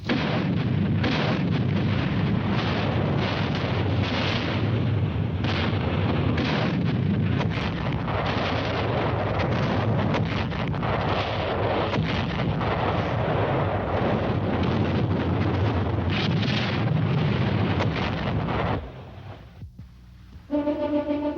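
Naval shells pound an island beach in a sustained World War II bombardment, loud continuous booming and rumbling blasts overlapping for nearly twenty seconds before dropping away abruptly.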